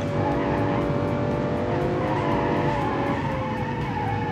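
In a racing video game, a muscle car fitted with a V12 engine roars loudly and steadily as its tires spin and squeal, with the engine tone rising and falling throughout.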